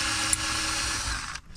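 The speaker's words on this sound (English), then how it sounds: "I have just put a 7mm on a drill" A power drill fitted with a 7mm socket backs screws out of a 1998-2007 Chevrolet Silverado climate control panel, giving a steady close whir that cuts off abruptly near the end.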